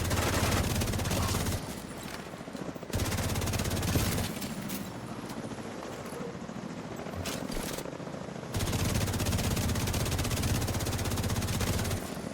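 Repeated heavy shotgun blasts in The Division 2 during a hardcore solo fight on Roosevelt Island, loud and dense, with brief lulls between sustained bursts of fire.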